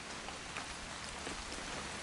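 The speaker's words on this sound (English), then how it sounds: "It's gonna rain the whole weekend," Steady rain in the video game What Remains of Edith Finch, a dense, even patter of drops on surfaces that runs unbroken and fairly loud throughout, with no talking.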